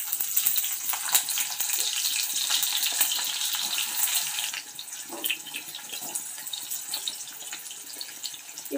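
Onions go into hot oil in a home kitchen and sizzle loudly and steadily, a close, continuous hiss that eases slightly partway through.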